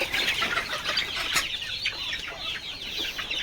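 Guinea fowl call among a flock of chickens, with a busy chorus of clucks and sharp cries close by, some wing flapping and steady chatter running throughout.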